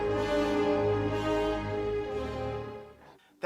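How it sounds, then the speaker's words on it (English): Dies Irae, the ancient four-note chant melody, sounded on a rich sustained instrument or synth with deep low tones, notes shifting slowly and fading out before a brief sharp noise at the very end. "That sound is a 4-note melody known as the Dies Irae."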